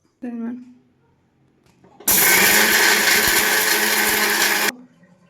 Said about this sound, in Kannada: ಮಿಕ್ಸಿ ಜಾರಿಗೆ ಗ್ರೈಂಡ್ ಮಾಡಬೇಕು